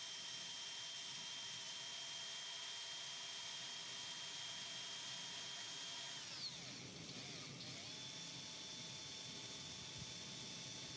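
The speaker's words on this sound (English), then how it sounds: "Never seen a drill going before" A drill whines steadily at low volume in a glassblowing studio, its motor pitch sliding down and winding back up midway before humming on.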